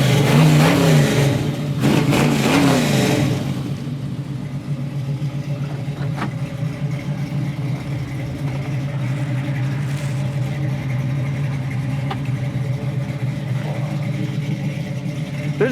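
A 1969 Chevrolet Camaro RS/SS at a classic car dealer gives a strong rev in the first few seconds, then settles into a steady, rumbling idle that carries on alone for the rest of the clip.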